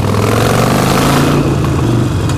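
A Harley-Davidson motorcycle engine pulls hard under acceleration, its deep, throbbing exhaust loud and close with rising pitch, easing slightly near the end.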